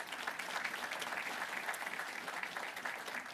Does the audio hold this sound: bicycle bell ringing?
no